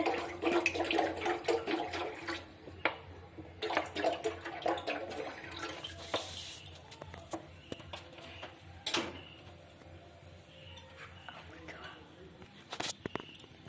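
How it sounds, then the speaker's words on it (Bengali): Water is poured into a cooking pot with a splashing, gushing rush that comes in uneven bursts over several seconds, with kitchen clatter and a voice talking alongside. "পরিমাণ মতো জল দিতে হবে যতটা লাগবে"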